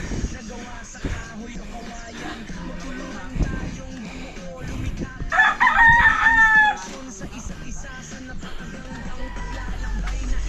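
A rooster crows once loudly in the middle, amid background chatter of voices and farmyard noise while sand is being hauled.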